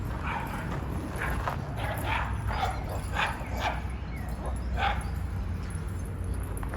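Several dogs bark repeatedly in the distance over a steady outdoor hum in a park in Frankfurt, Germany. Their yips come in irregular bursts.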